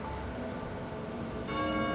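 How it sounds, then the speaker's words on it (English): Church bells ring at St. Mel's Catholic Church, with metallic tones sustained and layered and a fresh strike near the end, heard at a moderate distance with no voices. "you hear the familiar sound of metal ringing"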